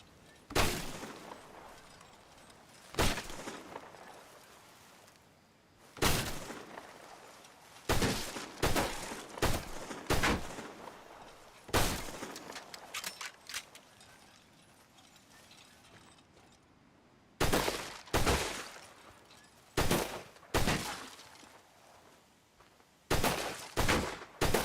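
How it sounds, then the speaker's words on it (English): Gunshots fired at a telephone pole in Red Dead Redemption 2, sharp loud cracks coming in irregular bursts: single shots and quick doubles and triples, separated by quieter ambient gaps, with no talking. "I don't anticipate that a telephone pole will move on me while I'm shooting it."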